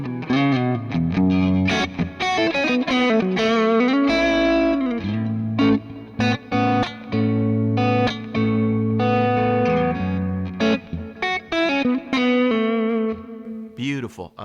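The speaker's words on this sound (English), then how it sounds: "now I'm just cleaning up the guitar, right? Neck's going to sound like this" Electric guitar played on the neck pickup with the tone cleaned up through a BluesMaker amp profile. A continuous run of picked notes and chords, loud and sustained with a little effects shimmer, and no talking.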